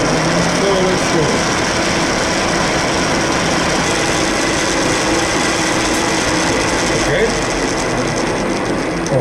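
End mill side milling the end of a pine wood stick, a continuous dense whirring grind with a steady motor hum, loud and close, holding level for the whole stretch.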